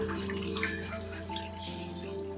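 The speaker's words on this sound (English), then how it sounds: "This is them rinsing out all those" Water runs and splashes as food is rinsed and washed by hand in Nigeria, a steady close rushing wash with a faint tonal hum underneath, no talking.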